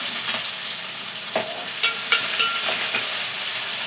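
Curry leaves, green chillies and onions hitting hot oil for a tempering, a loud continuous sizzle and hiss with scattered crackles and spoon scrapes, close up and without speech.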